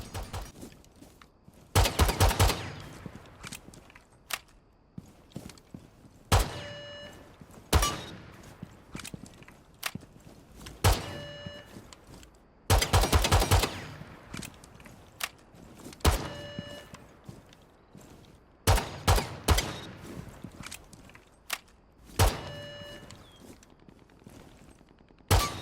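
Handgun fire in the Rainbow Six Siege video game, with short rapid bursts of sharp shots repeating at irregular intervals and some metallic clicks and thuds between volleys, loud and close.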